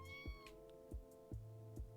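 An orange cat in a video game gives about five short meows in a steady run, each a quick upward-bending cry, loud and close over a sustained musical drone with bright chime tones.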